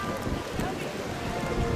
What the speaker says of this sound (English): it's properly raining, isn't it?